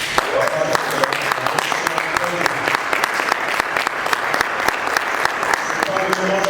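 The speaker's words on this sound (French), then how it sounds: "C'est pas le moment d'applaudir, mesdames et messieurs." Crowd applause in a room after a thesis defence grade is announced, dense sustained clapping from many people, with a voice speaking over it.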